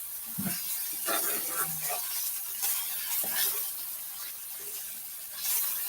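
Diced onions sizzle in a frying pan at home, a soft steady hiss with occasional stirring scrapes and clinks, fairly quiet and close.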